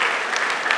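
Steady audience applause at a conference, a dense wash of many hands clapping at once, continuous and fairly loud for a brief moment.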